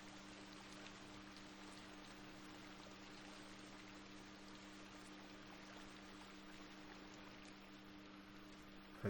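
Steady rain in the video game INSIDE, a soft, even hiss of falling water and dripping with no breaks, faint and continuous throughout, under a low hum.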